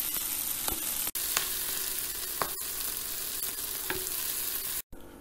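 Lentil kebabs sizzle steadily in a hot frying pan, a continuous close crackle broken by a few sharp ticks and taps, with a brief pause near the end before the sizzling resumes.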